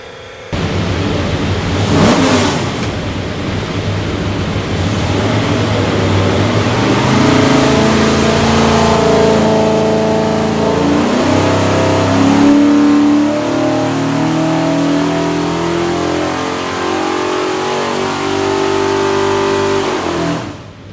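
A 427 Ford V8 in a 1987 notchback Mustang, fitted with a custom-grind hydraulic roller cam and a rear-sump oil pan, roars continuously and loudly on a dyno for about twenty seconds, its pitch climbing steadily through a full-throttle pull.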